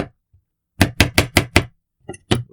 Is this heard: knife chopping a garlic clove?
yes